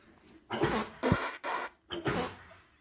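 A horse gives four harsh, breathy coughs in a row, each short and forceful, heard close with brief pauses between them.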